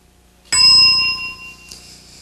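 A single bright bell ding rings out to open a game-show segment, sharp and loud at first, then its ringing tone lingers and fades, with a softer second strike near the end.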